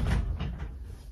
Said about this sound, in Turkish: Çekmeceyi kapatmadan çektim.